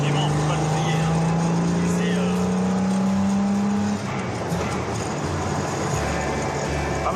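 The 3.8 litre engine of an open-top Jaguar E-Type runs with a strong, steady drone that rises in pitch as it revs, then drops back to a rough idle, loud and close.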